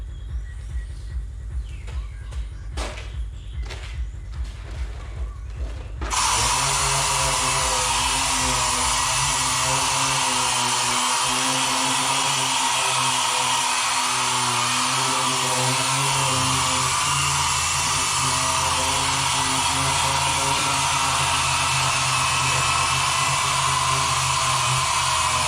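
After some quiet handling, a power sander starts up on the poptop of a VW Kombi and runs steadily as a loud continuous whirring drone, its pitch shifting slightly under load, with no talking.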